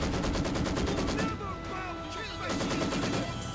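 In Company of Heroes 2, an incendiary barrage and artillery fire rattle in dense rapid bursts of gunfire and booms, with a brief lull in the middle before heavy firing resumes.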